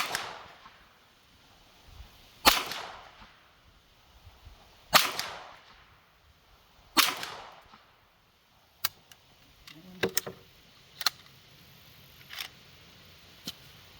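Five shots from a 9mm handgun or pistol-caliber carbine with MPA 30 magazines, sharp separate cracks spaced about two seconds apart, the last ones softer amid scattered clicks and handling noise.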